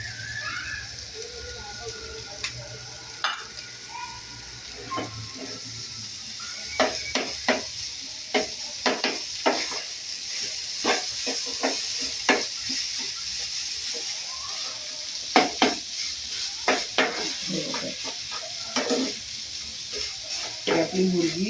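Grated paneer sizzles in a pan while being stirred for bhurji, a soft continuous frying hiss broken by repeated scraping and tapping of a spoon against the pan, fairly close and quiet.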